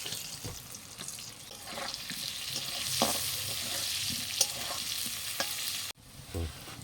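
Potatoes seasoned with salt and turmeric fry in hot oil and are stirred in a pan, a steady close sizzle with scraping strokes of the spatula, ending in a brief pause and a final clatter.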